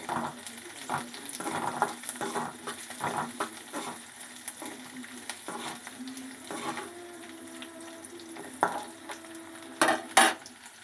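Garlic and onion being sautéed in oil in a pan for an okra stir-fry, with repeated rhythmic spatula scrapes and clinks over a low sizzle, plus a couple of sharper metallic knocks near the end; close, no voices.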